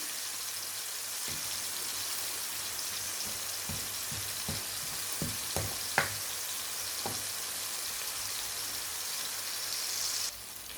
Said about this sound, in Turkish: Sebzeler orada kızardı yavaş yavaş.